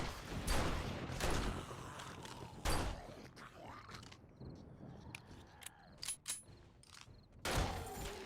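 Pistol shots crack out in 7 Days to Die Alpha 20, several sharp reports spaced irregularly among clunks, creaks and footsteps, fairly loud against a quiet game background.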